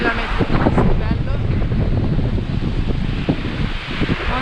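Strong mountain wind on the Tour du Mont Blanc trail buffets the microphone in continuous gusty rumbles while a person talks underneath, close and loud throughout.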